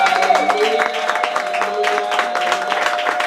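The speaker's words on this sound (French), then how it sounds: "Une offrande d'acclamation." Congregation applauding in a church during a worship service, a steady wash of many hands clapping at moderate volume alongside a sustained musical tone, with no break across the stretch.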